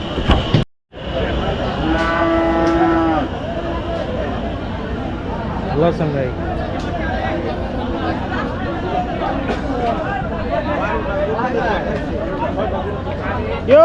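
Cattle moo at a bull market, with one long, drawn-out bellow standing out early over a busy background of crowd chatter and other livestock.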